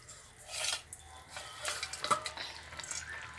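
Rohu fish pieces go into a pot of simmering, light curry with pointed gourd, giving a couple of wet splashing plops and faint scraping clatter against the pan over a low bubbling background.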